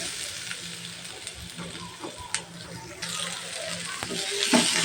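Fish curry sautés in a small amount of oil, a steady close sizzle broken by scraping and clinking from stirring that grows louder toward the end.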